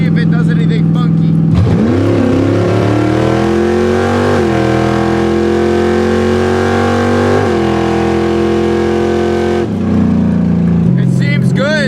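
A cheap carbureted $3,500 drag car is driven close by. Its engine drones loud and steady, rising and shifting in pitch as it pulls through the gears, with a short break near the end.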